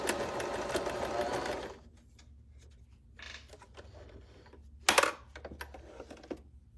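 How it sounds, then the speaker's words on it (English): A sewing machine stitches a quarter-inch seam in a fast, steady burst, then stops, followed by quiet fabric handling and a couple of sharp clicks and taps nearby. "I'm sewing at the 1/4 inch."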